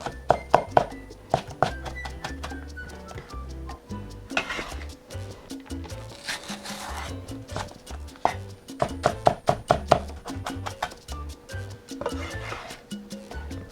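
Knife chopping peppers and paprika on a cutting board, a run of sharp repeated taps in quick bursts with short pauses between them, close and fairly loud.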